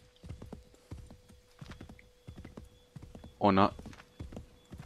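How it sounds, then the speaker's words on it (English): In Assassin's Creed 3, a horse's hooves clip-clop in a quick, even rhythm close by, a short whinny breaking through midway, while someone talks briefly over it. "Oh, my horsey."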